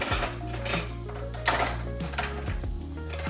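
Chopped vegetables tip into a pan over cooking eggs for breakfast fried rice, a short clatter of metal and food landing with light clinks, close and fairly quiet with no talk.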